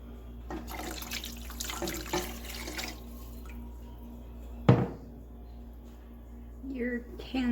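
Water runs from a kitchen tap into a pot for pasta e fagioli soup, a soft splashing wash that stops, followed by a dull knock and faint clinks of cans and utensils while someone talks quietly.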